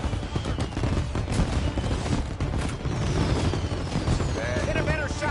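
Tommy gun fire in the video game Mafia on PS5, dense loud bursts of automatic shots crackling continuously under and between other game effects, with some talk mixed in.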